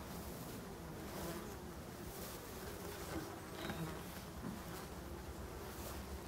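Black honeybees buzz faintly around a small nucleus hive after a swarm-prevention split, a soft continuous hum with no talk, blended with broad outdoor noise.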